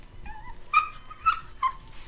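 A Yorkie dog gives several short, high whimpers and yips at its puppies. The thin, close, whiny cries come in quick bursts and stand alone against a quiet background.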